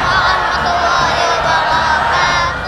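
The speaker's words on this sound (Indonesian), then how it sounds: "Tepuk tangan untuk mereka" Studio audience at the Hafiz Indonesia 2020 opening show, a dense, steady wash of crowd cheering and clapping that holds loud throughout before easing slightly at the end.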